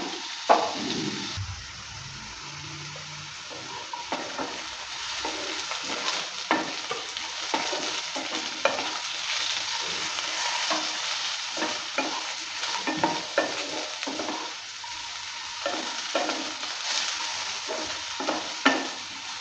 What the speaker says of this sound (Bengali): আলুটা ভালো করে ভেজে নিলাম একটু লাল লাল করে